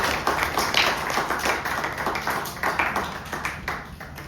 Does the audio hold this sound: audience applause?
yes